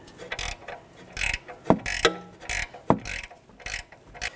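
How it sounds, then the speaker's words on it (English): A ratchet wrench tightens a nut on a 2006-2010 BMW 550i rear upper control arm, giving bursts of rapid clicking as the handle swings back, several short rounds close-up with no speech. "A ratchet wrench."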